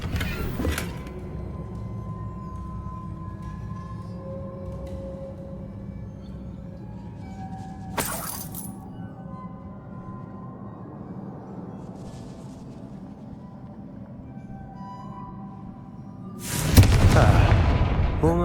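A Confringo fire spell from Hogwarts Legacy bursts with a sharp explosive crack early on, followed by another brief blast midway and a louder, heavier boom near the end over a low rumbling game ambience.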